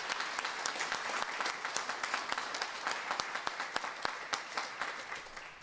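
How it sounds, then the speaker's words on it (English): A round of applause at a mammography fund donation event at St. Joseph's/Candler: a small group clapping at moderate distance, individual claps clearly separable in an uneven rhythm, fairly quiet and fading slightly at the end. "Let's give them all a round of applause."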